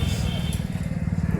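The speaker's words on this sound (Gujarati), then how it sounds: "તું તો ટ્રેક્ટર ચલાવે" A tractor engine running on a farm where onions are being planted, a loud, steady low chugging throb close by, with people talking over it.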